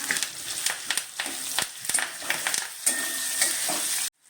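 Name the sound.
onion, green chili and curry leaves frying in pan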